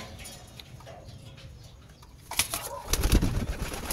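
Pigeons at a loft coo quietly at first, then a loud burst of wing flapping follows as birds take off or settle nearby.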